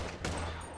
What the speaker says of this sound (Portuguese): Três tiros ao poste à esquerda.